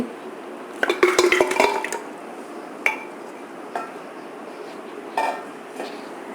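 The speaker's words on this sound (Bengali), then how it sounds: "আমি প্রেশার কুকারে রান্না করব আমি এর মধ্যে ঢেলে দিচ্ছি" Beef trotters, about one and a half kilograms, going into a pressure cooker, with a cluster of clattering, clinking knocks against the metal pot, followed by a few sparse single clinks. Close and fairly loud, with no talk.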